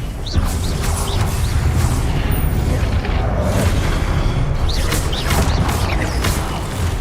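Fiery Confringo spell blasts in Hogwarts Legacy combat: loud, dense booms and crashing impacts with whooshing bursts, continuous and close throughout a chaotic fight.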